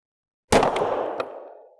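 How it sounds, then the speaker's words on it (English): One suppressed gunshot fired with subsonic PPU ammunition gives a single sharp crack after a short silence. It is followed by a metallic clack and a ringing decay that fades over about a second. "we'll fire a couple with the PPU and sort of go down to normal speed"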